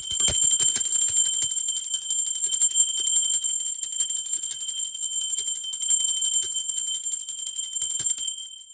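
Bell struck a few times at the start, then a bright sustained ringing tone that hangs and slowly fades over several seconds, close and clear with no talk.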